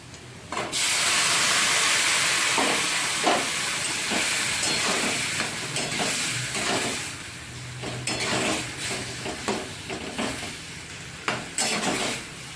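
Greens curry tipped into fried, light-brown onions in a pan sends up a sudden loud hissing sizzle that slowly settles, broken by scattered spoon scrapes and stirring clicks.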